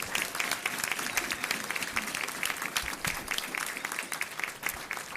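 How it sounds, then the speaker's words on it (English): A school board meeting audience applauds a district runner-up 6A baseball team, steady dense clapping filling the room at moderate level without pause. "Let's give them a round of applause."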